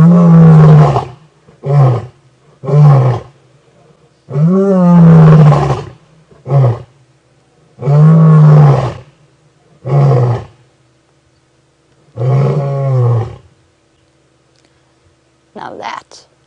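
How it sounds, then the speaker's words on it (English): A lion roars repeatedly beside a safari vehicle, loud and close, in a series of deep moaning calls separated by short pauses and ending in fainter grunts. "Putting on a full show of what it's like to have a lion roaring next to your car."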